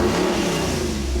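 A big block V8, a Chevy 454 or Ford 460, revs hard and loud during a break-in heat cycle, a short sustained roar with no voices.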